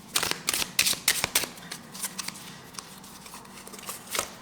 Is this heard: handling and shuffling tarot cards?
yes